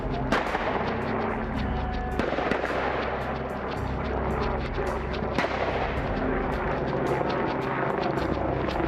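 A helicopter flies overhead during a police operation on a rural track. Its rotor gives a loud, steady roar broken by sharp, repeated thumps across the whole stretch, and no voices are heard.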